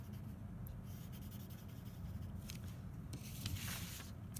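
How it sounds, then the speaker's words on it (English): A pencil rubs softly across paper to blend and smudge shading strokes on a two-point perspective box drawing, making faint, steady scratching and brushing with small irregular swishes and no voice. "I'm gonna kind of blend those pencil strokes out"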